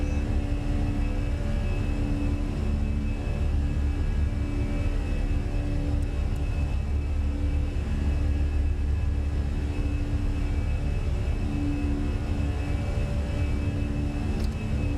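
A Fenix A320 airliner climbs out on runway heading in Microsoft Flight Simulator 2020 with a steady, unbroken jet engine roar and a deep low rumble. A few faint tonal whines sit above it, and no voices are heard.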